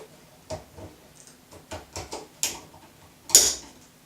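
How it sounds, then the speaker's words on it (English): Small screwdriver prying a counter spring out of a Campagnolo Ergopower shift lever, a series of faint clicks and light metallic ticks with a sharper snap near the end, close and quiet. "So next I'm going to prise the counter spring out with a small screwdriver."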